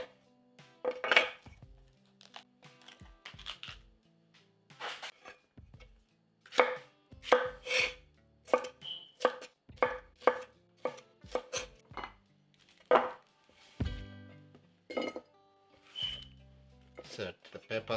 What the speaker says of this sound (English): Cut them into nice bite size. Same thing with the green.